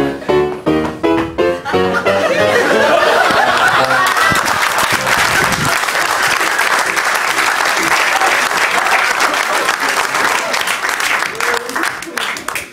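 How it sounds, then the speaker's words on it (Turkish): A studio audience claps loudly on a Turkish comedy show, rising from a few separate claps into dense, sustained applause that fills the room for several seconds before easing slightly, with a voice talking over the start. "siz durumu nereden bilip de alkışlıyorsunuz?"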